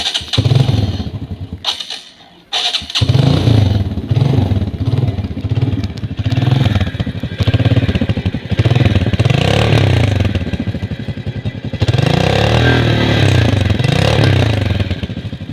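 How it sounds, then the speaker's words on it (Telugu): A motorcycle's engine is started at close range. After a short sputtering attempt and a brief pause, it catches and settles into a loud, steady, thumping idle with slight rises in revs. "బండి ఎలా స్టార్ట్ అయ్యింది ఏంటో చూపిస్తాను"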